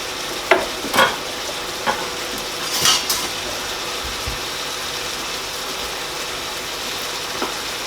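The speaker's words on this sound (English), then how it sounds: "all we're going to do is brown off and just saute the onions until they've gone transparent" Onions sauteing in a pot for spaghetti bolognese, a steady soft sizzle filling the background with a few louder stirring scrapes and clinks near the start, close by.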